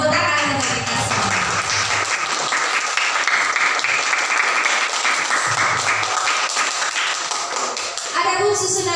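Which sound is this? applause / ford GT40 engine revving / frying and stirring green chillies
applause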